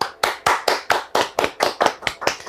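Rhythmic clapping greets a guest scientist, about a dozen sharp, evenly spaced claps in a steady beat, close and crisp, with no talk over them.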